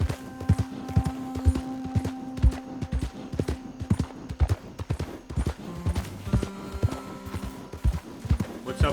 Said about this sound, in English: Good horse. It's a pretty sure-footed horse.